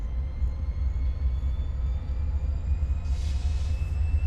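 A parked diesel locomotive idles nearby, laying down a steady low rumble with faint tonal hum above it, plus a brief higher hiss near the end.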